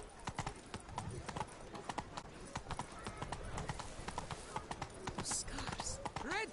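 Roach the horse's hooves clip-clop steadily in Witcher 3, a brisk irregular patter of hoofbeats over game ambience, with a voice speaking and a brief whinny-like call near the end.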